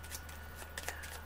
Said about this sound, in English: so I will shuffle.